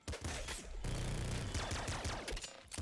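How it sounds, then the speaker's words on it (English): Double shotgun blasts from the game Nuclear Throne, a rapid dense volley of loud close gunfire filling the whole moment with only brief gaps. "Double shotgun. Pretty good gun."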